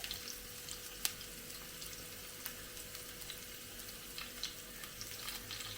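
Ginger, garlic and curry leaves frying for a raw-mango chammanthi podi, a faint, steady sizzling hiss with a few soft pops, heard on its own.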